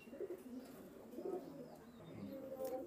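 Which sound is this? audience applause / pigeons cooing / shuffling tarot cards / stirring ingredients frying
pigeons cooing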